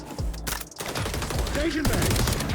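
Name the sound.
gunshots in the video game XDefiant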